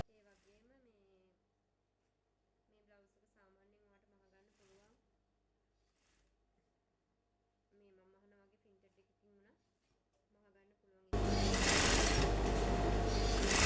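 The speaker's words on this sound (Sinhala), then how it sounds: "මේ විදිහට අපි අත අඟල් භාගයෙන් මහගෙන යනවා." A sewing machine stitches the sleeve of a crop top, starting with a loud, steady mechanical whir near the end after a stretch of quiet talking.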